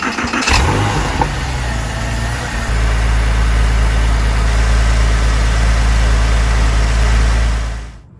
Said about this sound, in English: I can go ahead and crank this thing up and see how she runs